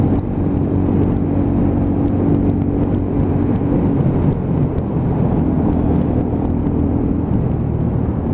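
Lexmoto ZSX-F 125cc motorcycle engine heard while riding: a continuous low droning hum with wind rush, loud and steady throughout, with no speech.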